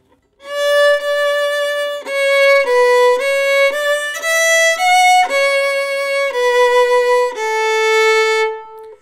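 A violin plays a short phrase of Adeste Fideles, running from D up to A in clear sustained bowed notes, loud and close, with no talking.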